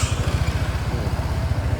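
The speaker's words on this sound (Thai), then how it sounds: "เราก็เดี๋ยวสตาร์ทให้ฟังเสียงเครื่องยนต์กันดูนะครับ" A white 2019 BMW C400GT ABS scooter runs at a steady idle, its engine giving a low, even, throbbing pulse that sounds close by. The rhythm holds without a break, and no one talks over it.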